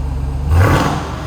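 A 2021 RAM TRX pickup's supercharged Hellcat V8 is revved once while parked, a deep, loud rising bark over a steady idle rumble, close by with no talking.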